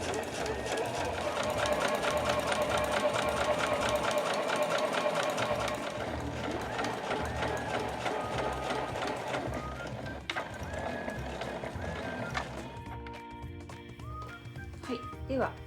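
A sewing machine stitches a body bag with a gusset, running steadily and fairly loud beneath ongoing speech, with a brief change near the end.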